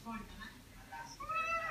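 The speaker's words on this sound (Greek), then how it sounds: "Γατούλη." A pet cat meows softly a few times indoors at home, faint and close, with a voice talking to it in between.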